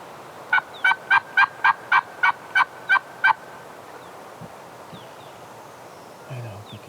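A wild turkey gobbler gobbles outdoors in Idaho during a hunt, sounding as a rapid series of about nine loud, sharp rattling notes close by. Quiet rustling and faint field noise follow.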